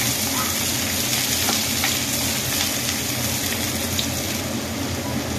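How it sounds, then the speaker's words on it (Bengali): Chopped onions and green chillies sizzle steadily in oil in a pan, with a dense, continuous frying hiss and occasional faint stirring clicks, close and alone without talk. "পেঁয়াজটা ফ্রাই করতে থাকবো।"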